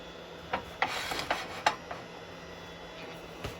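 A carbide woodturning tool hollows a live edge Laburnum bowl on a lathe, giving a handful of scattered scraping rasps and light catches over a steady motor hum.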